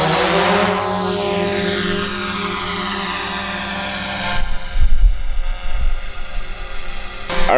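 A DJI Mavic Pro drone whines loudly up close as it spins up and takes off, its rotor pitch sweeping steadily, then breaks into rougher, gusty rumbling as it flies.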